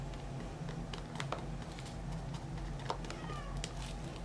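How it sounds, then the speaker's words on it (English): A cat meows outdoors, faint and distant against steady background noise, with a few brief calls spread across a few seconds. "That annoying cat outside?"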